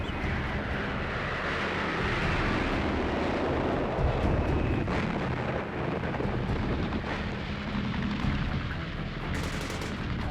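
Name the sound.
napalm bombs dropped by Skyraider aircraft, Vietnam War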